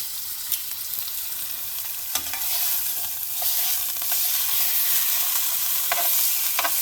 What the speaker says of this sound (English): when the pan gets hot, we'll set it in to sear